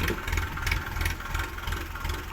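A tractor engine idles steadily after getting stuck in mud, a low continuous rumble with a faint pulsing throb, close and moderately loud, with no talking.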